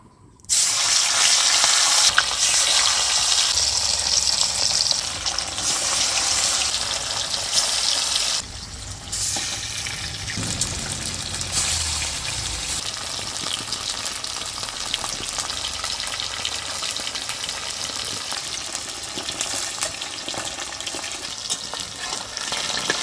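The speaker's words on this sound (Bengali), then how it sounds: "মাছগুলো ছেড়ে দিই কড়াইতে।" Tilapia pieces fry loudly in oil in a wok, a dense continuous crackling sizzle that eases somewhat partway through and continues steadily at close range.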